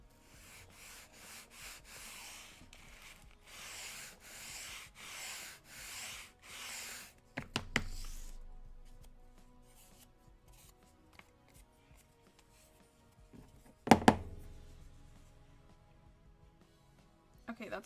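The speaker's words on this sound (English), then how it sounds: "This is sandpaper." Sandpaper rubbed back and forth on a small wooden piece for a book nook, a close rhythmic scratchy swishing in regular strokes, then a few knocks and handling clatters with quiet pauses between.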